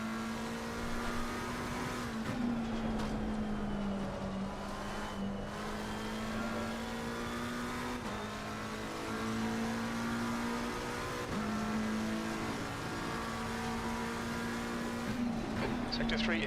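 Simulated GT race cars from Assetto Corsa Competizione lap Brands Hatch in an online elite race, a steady high engine drone shifting pitch with gear changes over sixteen seconds, with commentary talking over it.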